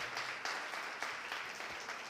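Faint church congregation applause, a dense patter of many hands clapping at a distance, steady for a couple of seconds.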